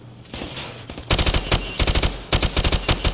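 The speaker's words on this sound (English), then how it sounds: "I want you to shoot the targets through the wood." An automatic rifle in Call of Duty 4: Modern Warfare Remastered fires in rapid bursts through plywood at targets, with loud close shots in quick rhythmic strings separated by brief pauses.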